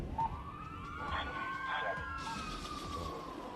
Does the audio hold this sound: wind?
no